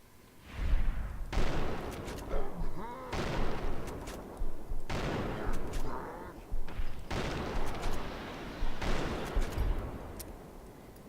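Gunfire from the video game Fallout New Vegas comes in several loud bursts of shots, separated by short pauses and trailing into echoing decays, with a voice heard briefly between the volleys.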